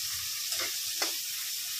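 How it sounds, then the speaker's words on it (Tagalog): Onion, garlic and tomato sauté in a pan at an outdoor kitchen, with a steady close sizzle and a couple of brief stirring scrapes, no talking. "Okay na yung ating ginisang sibuyas, bawang at kamatis."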